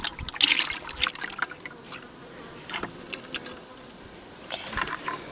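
Liquid poured into a bucket outdoors during beekeeping feeding, a light trickling and splashing with buzzing insects around and intermittent bursts of pouring.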